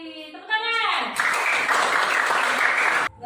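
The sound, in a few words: applause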